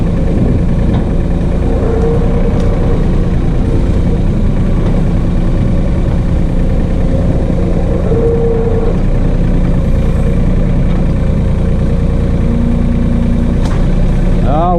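A New Holland Workmaster 25 tractor engine labors under a loader load in the woods, a loud, close, continuous drone with a steady throb, straining at the limit of its loader power.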